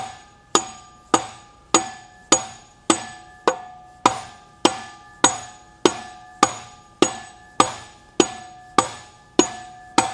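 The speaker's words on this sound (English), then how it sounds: "It was just more saving my hands using that hammer." A hammer drives an axle shaft down into a bearing on a Pettibone hybrid monster truck axle, with about eighteen evenly spaced, ringing metallic blows sounding close and clear and no talk.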